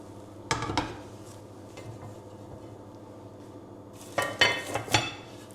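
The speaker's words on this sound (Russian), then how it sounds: "Сейчас я возьму крышку." A metal pot lid is handled in a home kitchen during bread baking, giving a couple of close clinks and clatters at the start and a cluster of sharper metallic knocks near the end, with quiet shuffling between.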